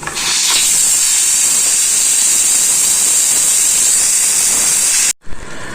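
Loud, steady steam hisses continuously from a pressure cooker's vent for about five seconds, then stops abruptly, while cooking beef karahi.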